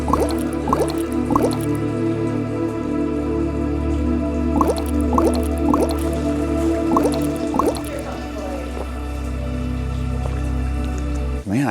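Water from the Fountain of Youth in St. Augustine trickles and splashes into a cup, a steady close liquid stream with repeated drip-like plinks throughout.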